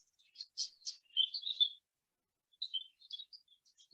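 Budgerigars chirp in a mini flight aviary, short high twittering calls in two bursts separated by a pause, soft and fairly close against near silence.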